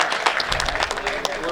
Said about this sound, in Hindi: एक बार जोरदार ताली स्वागत करें